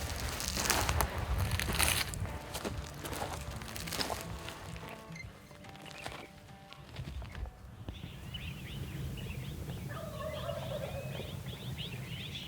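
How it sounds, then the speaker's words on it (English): Wild turkeys gobble at dawn from a wooded hillside in several rattling bursts, fairly faint and distant, with quieter birdsong and rustling between calls. "Let them wake up and start gobbling on their own."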